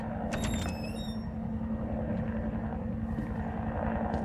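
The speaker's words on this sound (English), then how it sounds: "Oh, those are helicopters." Helicopters in the video game Resident Evil 2 give a constant low droning rumble that holds steady throughout, with a few brief higher electronic tones near the start.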